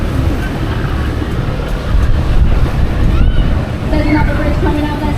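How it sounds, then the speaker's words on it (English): Waves slap against a river cruise boat on the Thames in London, a steady rumbling wash with wind buffeting the microphone and engine noise beneath, close and continuous. "Oh, we've got a few waves."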